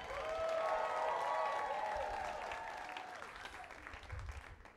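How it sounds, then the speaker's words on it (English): A comedy club audience at Bonkerz in Jacksonville, Florida, claps and cheers in a full, sustained round of applause that slowly thins out, with some voices and a tonal ringing over the top. "How about a round of applause for your other comedians gracing the stage tonight?"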